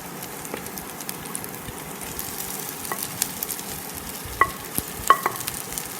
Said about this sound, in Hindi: प्याज को थोड़ा भूनने तक इसे टॉस कर लेंगे हम लोग